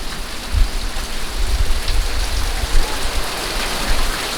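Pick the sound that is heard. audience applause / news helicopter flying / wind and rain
wind and rain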